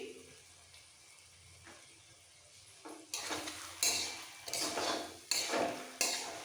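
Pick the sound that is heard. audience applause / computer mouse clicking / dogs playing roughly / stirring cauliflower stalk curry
stirring cauliflower stalk curry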